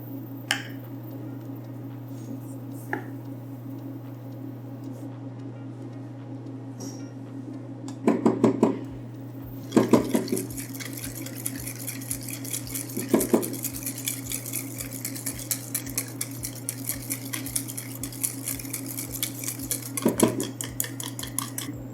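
A whisk beats egg yolks with sugar in a bowl in a fast, steady metallic clatter that grows busier partway through, over a constant low hum, with no talk.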